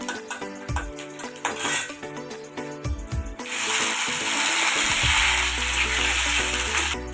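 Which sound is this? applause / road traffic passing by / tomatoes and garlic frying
tomatoes and garlic frying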